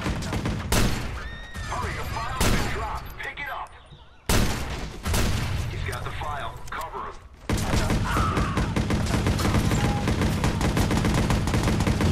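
Gunfire from the Watch Dogs video game, with repeated loud bursts of shots and sharp impacts across the clip, and a denser volley of rapid fire toward the end.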